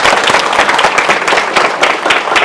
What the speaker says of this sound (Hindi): नारी शक्ति के लिए भी तालियां बजनी चाहिए।